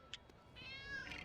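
A cat meows in the LEGO City Undercover video game, first with a short high mew and then with a longer drawn-out meow. Both are faint and heard alone.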